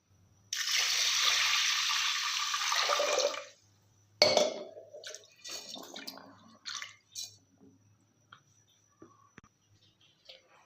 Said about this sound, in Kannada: ಇವಾಗ ನೀರು ಹಾಕ್ಕೊಳ್ಳೋಣ